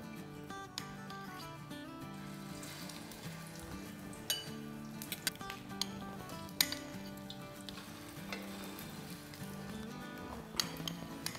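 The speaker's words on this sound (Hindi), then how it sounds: "और अब कबाब डालेंगे। और इसे ऑयल में डाल देंगे।" Kebabs sizzle and fry in hot oil in a home kitchen, a steady crackling hiss with occasional utensil clinks as pieces are added, close and continuous with no talk.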